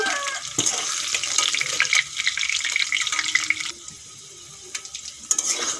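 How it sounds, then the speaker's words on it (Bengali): Coconut milk is strained for a potato and cauliflower curry. Liquid runs and splashes at close range with short bursts and pauses, a wet, pouring sound heard alone with no talking. "নারকেলের দুধ দিয়ে রান্না করব এই দেখুন নারকেলের দুধ এখন আমি এগুলো ছেঁকে নেব"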